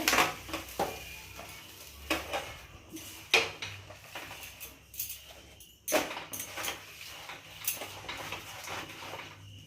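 A kadai is handled while stingray wrapped in banana leaves is set into it, giving irregular knocks, scrapes and clatters of metal cookware throughout, fairly close and without talk.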